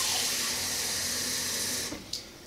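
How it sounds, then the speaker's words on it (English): Water from a kitchen tap rushes steadily into a pot of collard greens, a loud, close, continuous splashing that cuts off abruptly near the end, leaving a brief faint drip. "I'm going to add some more water to that because I want to be able to see the water"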